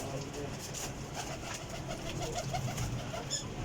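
Soft pigeon cooing repeats amid a busy, noisy background with a faint voice or two, the calls low and murmuring rather than prominent.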